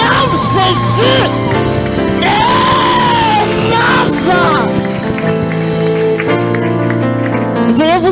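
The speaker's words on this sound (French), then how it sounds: "Est-ce qu'on peut encore acclamer très fort Jésus?" A church congregation cheers and acclaims Jesus loudly, with crowd shouts, whoops and yells blending into a dense roar alongside musical tones.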